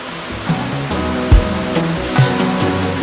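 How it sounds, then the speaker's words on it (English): Millaa Millaa Falls in the Queensland rainforest pours with a loud, steady roar of falling water, a constant close wash of noise broken by a few soft bumps. "This is Millaa Millaa Falls."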